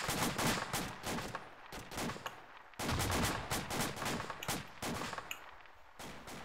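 A squad opens fire together in Arma 2, loud rapid rifle and machine-gun shots cracking in close, sustained bursts with brief pauses between volleys.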